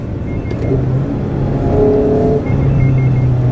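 A 2016 Mazda Miata sports car accelerating on back roads, its engine droning loudly from inside the cabin with a rising tone and a brief shift partway through.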